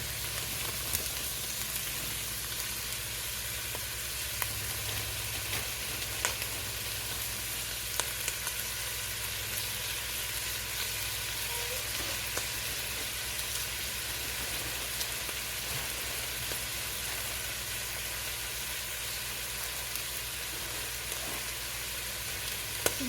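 Chopped onions fry in a pan with a steady, even sizzle that holds at moderate loudness throughout, with no voices over it.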